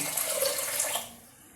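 Water runs steadily into a pressure cooker for about a second, then tapers off as the pour stops.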